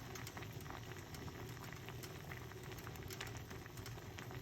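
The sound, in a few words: onion tea boiling in a pot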